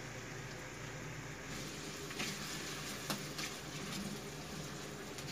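Tomatoes frying in a hot wok alongside salted fish, giving a steady close sizzle and crackle that holds at an even level throughout, with no voices.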